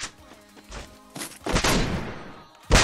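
Free Fire video game gunfire: a few sharp bursts and thuds, with a dense loud volley in the second half and a final crack at the end, mixed with faint game sounds.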